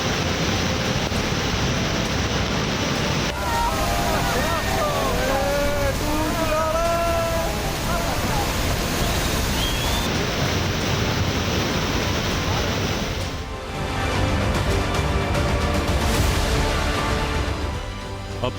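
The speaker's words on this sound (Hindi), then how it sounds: "पिछले कई दिनों से बारिश हो रही, जिसकी वजह से ब्यास नदी उफान पर है।" The Beas river, swollen into flood after days of rain, sends up a constant broad roar of rushing water that fills the whole stretch with little change in loudness, with faint scattered sounds and possible voices beneath it.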